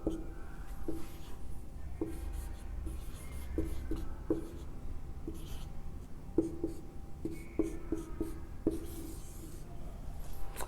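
Pen or marker writing out a formula on a board during a classroom lesson: steady scratchy strokes with short tapping dots, fairly close, alone with no talking.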